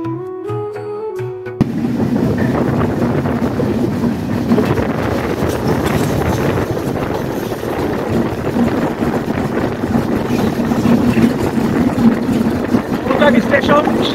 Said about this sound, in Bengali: গ্রামীণ সবুজের বুক চিরে এগিয়ে চলছে আমাদের ট্রেন